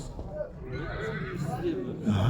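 Mares whinny at a Shymkent livestock market, their calls rising faintly and intermittently beneath someone talking continuously over the busy market noise.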